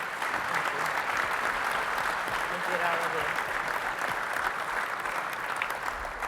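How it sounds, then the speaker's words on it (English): Audience at a meeting applauding, a dense, steady round of clapping sustained throughout at even loudness. "One last round of applause for all three of our folks."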